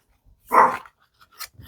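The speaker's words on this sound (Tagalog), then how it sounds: "Excuse me lang sa aso kong papansin." A single loud dog bark rings out close by indoors, followed by a couple of faint, brief yips or noises before it falls quiet.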